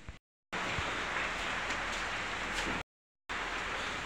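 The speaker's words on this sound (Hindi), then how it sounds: "बारिश शुरू हो गई है, बूंदाबांदी शुरू हो गई है" Heavy rain falls as a steady, soft broadband hiss, interrupted by two short silent gaps.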